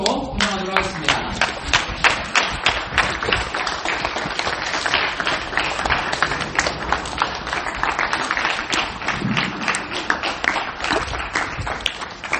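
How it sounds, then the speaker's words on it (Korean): A church audience claps steadily in welcome as a pastor comes forward at an evening service of a college and young adult retreat, with dense, continuous applause at even volume throughout. "이 시간 우리 목사님 나오실 때 우리 박수로 환영하도록 하겠습니다"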